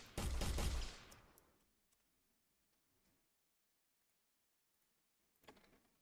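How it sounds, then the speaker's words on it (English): Rapid burst of gunfire from a gun in an Unreal Engine 5 zombie video game, a dense rattling volley for about a second that decays away, then a short second shot-like burst after silence. "I press play and I shoot my gun"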